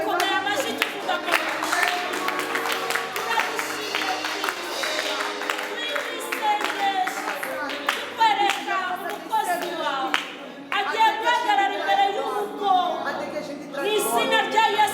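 A church congregation in Mozambique claps together in a steady rhythmic run over fifteen seconds, close and lively, with voices and chatter mixed in and a brief dip near the ten-second mark.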